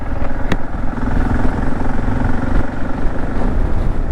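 Motorcycle riding along a road in Iraq, a steady, loud engine drone with rumbling road and wind noise throughout, no voices over it.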